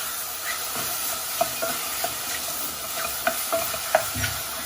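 Mushrooms seasoned with salt and pepper fry in a pan, giving a steady soft sizzle broken by scattered stirring scrapes and small clicks of a utensil, close and moderately quiet.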